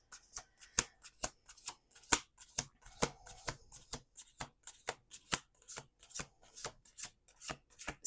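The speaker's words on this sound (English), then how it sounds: "Last shuffle." A deck of tarot cards riffled and shuffled in quick repeated bursts, crisp snapping flutters at a steady rhythm, close and clear with no talking.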